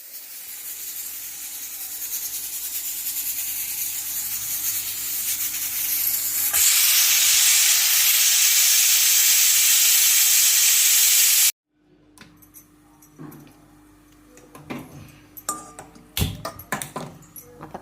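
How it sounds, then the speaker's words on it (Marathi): A pressure cooker on a kitchen stove hisses steadily, its steam growing louder and brighter before cutting off abruptly, followed by scattered clinks and knocks of kitchen handling, no voices. "3 शिट्या किंवा 4 शिट्या देऊन घेणार"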